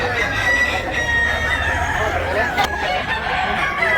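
A rooster at a gamefowl sale crows loudly and clucks, close by, over a steady hum of outdoor background noise.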